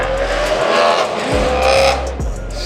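A loud Ford Mustang engine revs at a street drifting meet-up, its rumble surging and falling in repeated bursts, close and steady under the noise of the scene with no talking.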